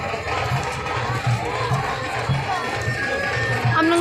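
Dense street crowd gathered for a Guru Nanak birthday festival in Shillong, with traffic blocked; a steady roar of many voices and chatter fills the scene, with faint rhythmic tapping beneath.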